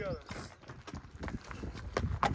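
Novoolexandrivsk heavy draft horses clip-clopping at a walking pace on the way to water, a series of sharp knocks beneath a busy background with voices nearby.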